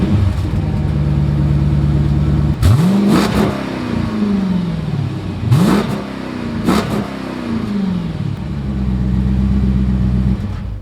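A Dodge SRT exhaust with the muffler deleted revs sharply three times over a steady idle rumble, each blip rising and falling quickly, loud and close with no voices.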